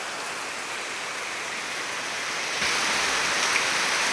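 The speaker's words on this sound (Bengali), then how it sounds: "প্রচুর বৃষ্টিপাত শুরু হয়েছে" Heavy rain pours down in a steady, dense roar of downpour, close and loud throughout with a slight swell in intensity partway through.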